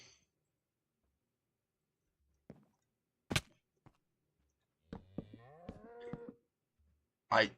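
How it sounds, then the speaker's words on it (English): A Minecraft cow moos in a quiet, sparse game scene. One drawn-out low moo stands out among a few short clicks and thuds. "again, the cow sounds, no, Mojang, no."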